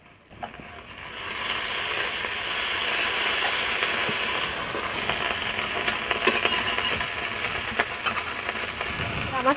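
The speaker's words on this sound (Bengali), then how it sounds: "শোল মাছগুলো ভাজা হয়ে গেছে এখন আমি থালাতে উঠিয়ে নিচ্ছি আর তারপরে আমি কই মাছ ভাজা করব" Snakehead fish fry in a pan with a continuous, fairly loud sizzle that swells early and holds steady, with occasional light clicks and scrapes from the cookware.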